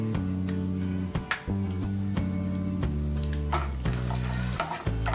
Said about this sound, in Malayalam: അപ്പോൾ ആദ്യമേ തന്നെ നമുക്ക് കാഷ്യൂനട്ട് വറുത്തെടുക്കാം.